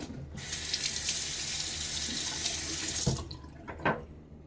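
A bathroom sink tap runs steadily for a rinse after a shave, a smooth close hiss that cuts off near the end and leaves a few faint drips and splashes.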